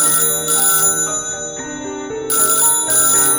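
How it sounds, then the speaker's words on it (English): A telephone rings repeatedly with bright jangling bursts, close and loud, with a short pause midway before ringing resumes. "Oh yeah, Frank, the phone's ringing."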